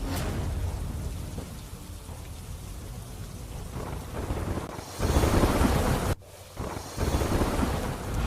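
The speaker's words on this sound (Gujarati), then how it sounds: "જિલ્લાના વાપી, વલસાડ, પારડી તાલુકામાં સાર્વત્રિક વરસાદ વરસી રહ્યો છે" Heavy monsoon rain pours down in Valsad district, Gujarat, as a loud, steady hiss and patter of drops on surfaces. Gusts and thunder-like rumbles swell partway through, with a brief dip before the downpour resumes.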